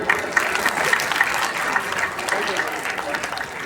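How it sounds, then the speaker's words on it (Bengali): An audience at a school ceremony honouring award-winning student players claps steadily for several seconds, a close, dense patter of hands with voices mixed into it. "একটু জোরে হাততালি"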